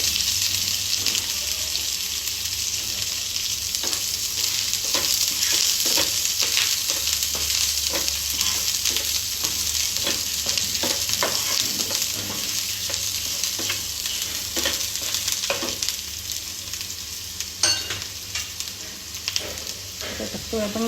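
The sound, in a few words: stir-frying chopped chili for spring roll filling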